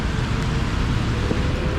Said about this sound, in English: And it's raining even harder here.